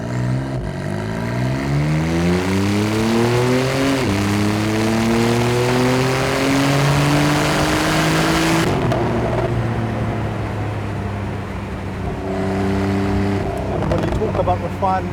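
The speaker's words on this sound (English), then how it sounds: "And let's hear that again. This is the character you get with the turbocharged engine." Porsche 991.2 Carrera 4 GTS with its turbocharged flat engine revving hard, pitch climbing through a gear change before a brief drop and a second rise, loud and continuous close by.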